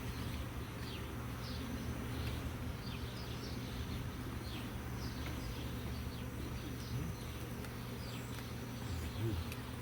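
Honeybees from a mature, congested hive humming as a steady, dense drone throughout, with pigeons cooing faintly in the background and scattered handling noises.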